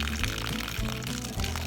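Water pours and splashes out of a house's plumbing as it drains through a frost-free outdoor faucet on a cold day, a steady close gush that runs throughout with no talk over it.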